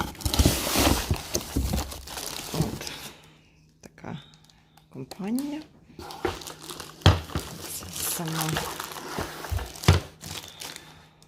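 Cordless vacuum cleaner parts come out of their packaging with crinkling plastic, rustling cardboard and handling clatter, while someone talks throughout.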